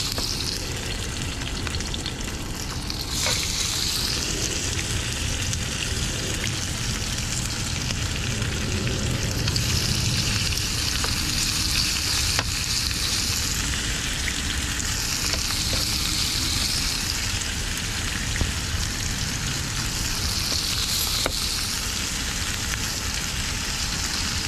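Fish and a pork chop sizzle and fry on a teppanyaki griddle in New York, a steady crackling hiss throughout with occasional scraping stirs and no one speaking.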